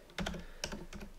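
Computer keyboard typing in a few quick bursts of clicking keys, close and fairly quiet, while setting up RetroPie directories and config files from the Windows side.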